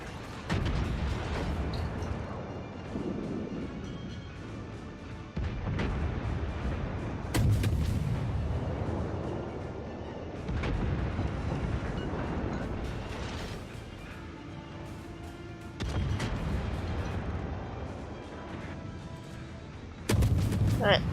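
Warship guns firing in the naval video game War of War Ship, a series of deep booming shots and rumbling blasts spaced several seconds apart over continuous engine and sea noise.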